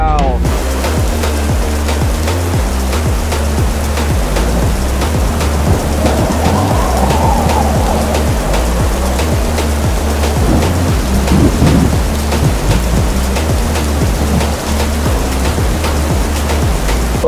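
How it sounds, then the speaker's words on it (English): A heavy downpour ahead of Hurricane Nicole pounds down loudly and continuously, a dense roar of rain with low thunder rumbling beneath; faint voices are heard briefly. "Literally just got here, and within seconds it's a full-on downpour."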